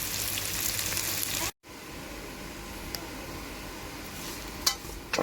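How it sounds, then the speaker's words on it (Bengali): Soya chunks fry lightly in a pan with a soft, steady sizzle and hiss, faint and even throughout, with no voices. "এগুলো খুব বেশি ভাজবো না হালকা ভেজে নেব"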